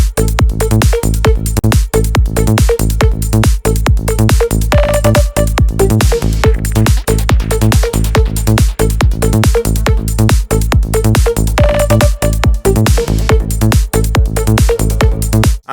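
A psytrance melody rides over a big, bouncing rhythm: a loud, dense mix of rapid pounding kicks and rolling bass, with synth stabs and a brief higher tone surfacing now and then.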